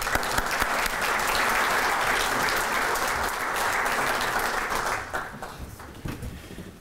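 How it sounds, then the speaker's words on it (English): A round of audience applause greets speaker Greg Slater at a talk on Maryland's bridges, loud and dense for about five seconds before thinning out and fading near the end. "If we can have a round of applause for Greg Slater."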